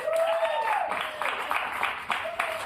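A live audience at a show applauds steadily, broad and close, with a few voices and a whistle-like call rising over the clapping.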